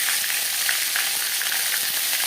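Panch phoron spices sizzle in hot oil, a steady close bright crackle that runs without a break and with no voices.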